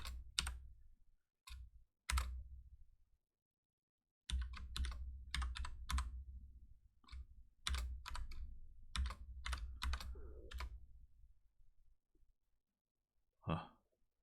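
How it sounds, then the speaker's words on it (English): Computer keyboard typing in quick bursts of clicking keystrokes, separated by short silences, close and fairly quiet. "you can probably figure out what I'm typing"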